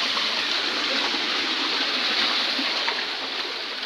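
A flowing river or stream rushes steadily and close by, a continuous broad wash of water with no break and no voices over it.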